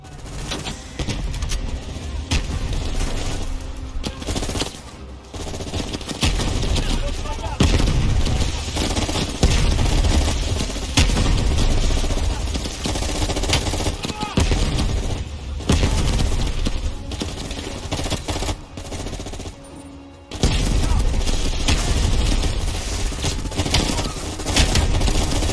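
Dense, continuous gunfire and automatic weapon bursts fill a Call of Duty: Black Ops Cold War campaign battle, loud and sustained with brief dips, M16 among the weapons.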